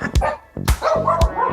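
A small dog yips and barks three times in quick succession, close and fairly loud, with whiny tonal edges between the barks.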